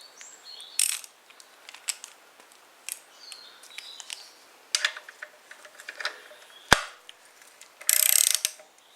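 Metal parts on a log splitter are tightened during servicing, with scattered ratcheting clicks, small metallic taps and one sharp knock, then a louder burst of ratcheting near the end.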